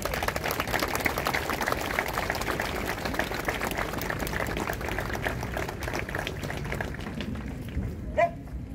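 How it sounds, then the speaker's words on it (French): Outdoor audience at a war memorial ceremony in Cabourg applauding, a dense, steady patter of many hands that thins out toward the end, with one brief sharp knock near the close. "On peut les applaudir."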